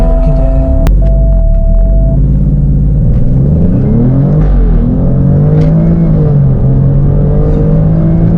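SUV engine in race mode driving hard around a race track, a loud continuous rumble and hum with rising and falling revs throughout, close to the car.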